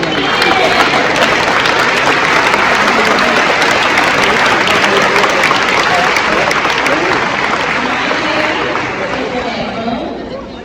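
Evening audience at a Barz2Brickz season opener gives a loud, dense round of applause with scattered cheers and crowd chatter, sustained for about ten seconds before fading slightly at the end.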